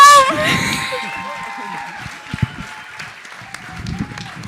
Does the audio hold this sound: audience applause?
yes